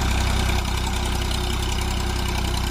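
A tractor engine runs at a steady, throbbing idle while lifting a rotavator, loud and close with a low knocking rhythm and no voices.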